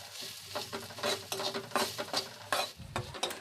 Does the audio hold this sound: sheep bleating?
no